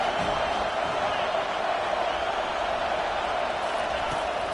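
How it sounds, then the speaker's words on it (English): Football stadium crowd at a USC versus Florida State game, a dense, constant roar of many voices holding steady throughout, loud and unbroken. "this crowd trying to help keep them there"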